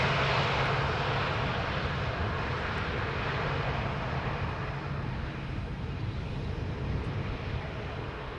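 An airliner arriving at Schiphol Airport from Humberside makes a steady, loud jet roar that holds at an even level throughout, broad and rushing with no break.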